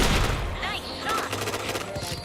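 Gunfire in the shooter game Point Blank: a loud opening shot, then rapid scattered shots under game effects and voices talking.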